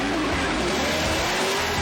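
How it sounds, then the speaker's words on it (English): A drift car at Formula Drift Long Beach slides through a corner, tires squealing under a loud engine roar in one short, continuous burst. "But let's look at this big flick from Taylor Hall"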